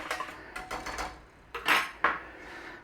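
A spoon stirs gluten-free cheese sauce, thickened with corn flour, in a pan. Short, quiet scrapes and light metallic clinks come in a loose rhythm, close by, with no talking.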